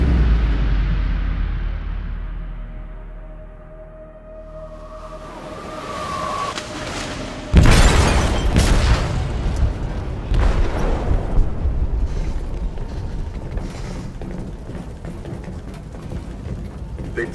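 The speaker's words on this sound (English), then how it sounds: "They detonated an explosive in the hold. The ship is sinking, sir." A heavy explosive detonates in the hold of a ship in Detroit: Become Human: a sudden loud boom erupts after a quieter rumbling buildup, followed by a long stretch of crackling, rumbling debris and noise.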